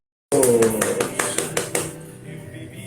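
An audience welcomes a professor and city councillor onto a café talk-show stage with a short burst of sharp, evenly spaced claps over a tonal backing, fading after about two seconds.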